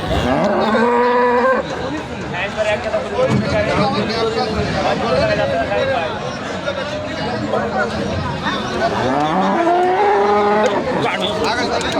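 Cattle lowing at a busy livestock market, several loud moos rising and falling in the first two seconds and again near the end, over a constant hubbub of traders talking and crowd babble.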